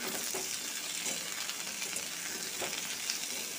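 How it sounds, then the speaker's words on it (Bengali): Potatoes and ivy gourd fry in a pan with a loud, steady close-up sizzle and occasional stirring scrapes, with no talk. "এবার এগুলোকে, আলু আর কুন্দরিটাকে ভালো করে ভেজে নেব।"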